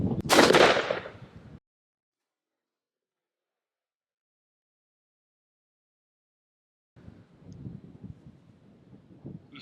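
A 28 gauge shotgun fires a single loud, close turkey load of 1 3/8 ounce 9-shot through a Trulock 3-step choke during outdoor patterning at 40 yards, a sharp blast with a short decay, followed by silence and then faint outdoor rustle.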